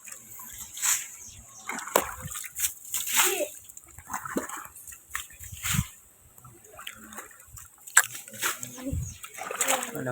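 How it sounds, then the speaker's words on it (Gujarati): Water sloshing and splashing in bursts as an elderly man empties a water pit in a village, with voices talking over the uneven splashes. "આપણે એક દાદા અત્યારે પાણીનો ખાડો ખાલી કરે છે."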